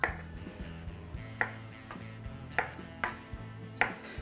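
Small datterini tomatoes are cut in half on a board, with about five crisp, evenly spaced knife taps over a quiet kitchen background, close and clear.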